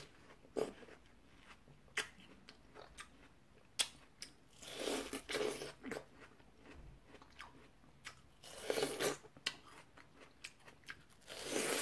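Close, quiet crunching as someone chews watermelon seeds while eating fresh watermelon: irregular sharp cracks and bites, with a few louder clusters of crunches over a faint background.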